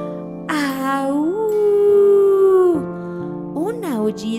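A human voice imitates a chilling animal howl, a long wavering cry that rises, holds and falls, followed by a shorter second howl, loud and close.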